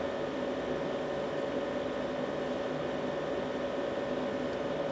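A steady, even whir of a Bluetti Elite 100 V2 power station's cooling fan while turbo charging, with a constant airy hiss and low hum, unchanging throughout, with no voices.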